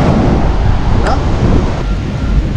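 Strong night wind at a beach resort beside a swimming pool near the sea, a loud, continuous rushing roar buffeting the microphone throughout.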